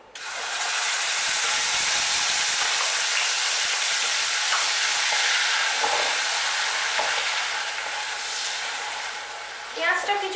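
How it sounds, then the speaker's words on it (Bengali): Onion paste sizzles and fries in hot oil with a bright, steady hiss that holds loud for several seconds and slowly fades, with a few stirring scrapes near the end. "পেঁয়াজটা কিছুক্ষণ ভেজে নিয়ে ভালো করে"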